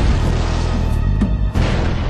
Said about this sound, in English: The investigators carry out a series of computer simulations and experimental explosions,